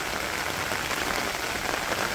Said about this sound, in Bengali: তো বৃষ্টি মোটামুটি ভালোই আইছে